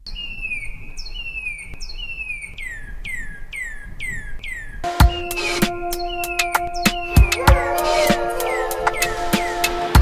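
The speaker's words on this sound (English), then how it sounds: "I heard some birds chirping out of my window and went ahead and sampled them." Sampled birds chirp in quick repeated downward tweets, then a mix of clicks and sharp percussive hits from a drum kit joins the calls, with no talking.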